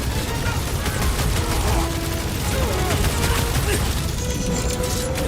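Turret gunfire in the Guardians of the Galaxy video game, a dense, continuous loud barrage of rapid shots mixed with game music and effects, with no clear pause over the whole stretch.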